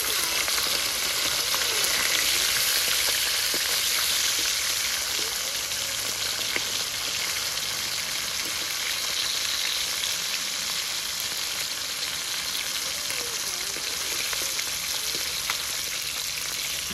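Food frying in very hot oil gives a steady, bright sizzle with small pops throughout, close and constant, and no voices over it.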